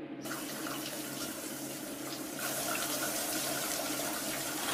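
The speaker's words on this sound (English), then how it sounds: "Shower time." A shower runs in a cartoon bathroom, a steady, dense hiss of spraying water that grows a little louder partway through, with no talking.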